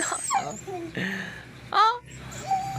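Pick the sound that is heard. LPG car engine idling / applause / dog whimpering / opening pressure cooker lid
dog whimpering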